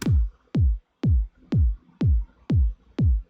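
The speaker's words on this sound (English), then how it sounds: "It's a very nice subby kick sound with a lot of punch." Self-made subby kick drum with strong punch, struck seven times at an even, steady tempo; each hit is a deep, booming thump with a quick attack and decaying low tail, heard alone with no talk.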